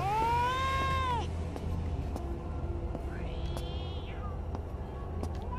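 Cats meowing inside an apartment: one long clear meow up front, then a second rising-and-falling meow a few seconds later, over a low background hum with faint clicks.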